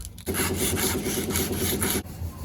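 Sanding a metal part by hand to fit a new sprocket on a lawnmower bike build, a steady, close rasping scrub in quick repeated strokes that runs continuously for about two seconds, with no talk.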